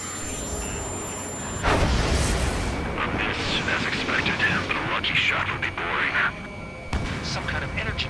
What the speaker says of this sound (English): some kind of energy weapon. No, it's a railgun.